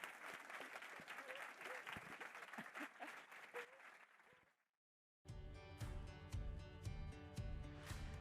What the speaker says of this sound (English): please will we give a warm round of applause to Mary Beard